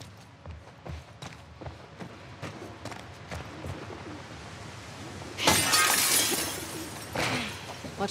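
Glass shattering in The Last of Us Part II, a loud burst of breaking glass after several seconds of quiet footsteps and soft clinks, followed by a smaller second crash.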